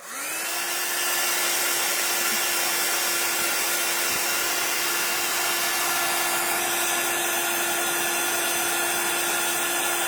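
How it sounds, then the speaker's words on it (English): Hot-air heat tool used for heat embossing powder on a stamped card, starting up and running with a loud, steady whirring blow and a constant motor whine for about ten seconds, with no speech. "And heat tool again. Sorry guys, it's going to get noisy."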